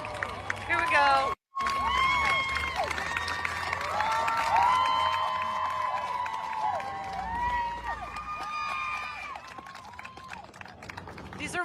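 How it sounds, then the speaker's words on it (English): A crowd of mothers claps and cheers continuously, a dense roar of applause and shouts played back from a recording, with a brief dropout near the start. "These are mothers clapping, celebrating the arrival of a woman that murdered her children."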